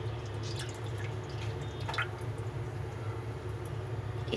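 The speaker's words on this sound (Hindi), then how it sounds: "और इमली का पानी भी ऐड कर देंगे।" Tamarind water poured into a pan for a spiced potato chaat dish, a soft steady trickle with small drips over a constant low background hum, no talking.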